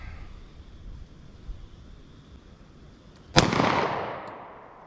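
A single sharp report from a revolver or pistol firing a .40 S&W cartridge rings out at an outdoor range, following a quiet stretch and trailing off in a decaying echo.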